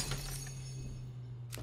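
Glass breaking during a Nerf war, a brief sharp shatter near the end of a quiet stretch with a low steady hum beneath.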